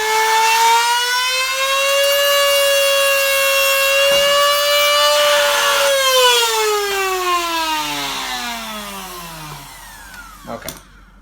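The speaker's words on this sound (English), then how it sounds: "have to switch cutting discs on my Dremel" A Dremel rotary tool with a cutting disc spins at a loud high whine while cutting a Bugaboo Cameleon 3 stroller locking disk, its pitch rising under load and then sliding down as it winds off, ending with a couple of knocks.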